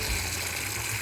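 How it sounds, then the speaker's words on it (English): Water gushes steadily into a 2-gallon garden sprayer tank, a continuous close filling rush with no talk over it. "And then we're going to just fill our sprayer"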